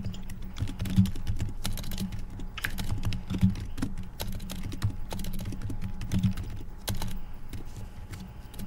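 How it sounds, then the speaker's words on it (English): Rapid, steady typing on a computer keyboard, with dense clacking keystrokes and a few sharper louder taps over faint background hum. "What are you typing?"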